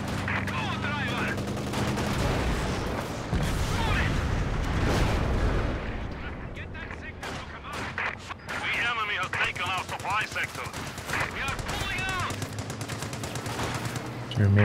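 Rapid machine-gun bursts from a tank's rear-mounted gun in Company of Heroes 2 crackle amid a dense battlefield din of gunfire, explosions and engine rumble, with voices talking throughout.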